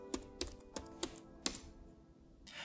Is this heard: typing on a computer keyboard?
yes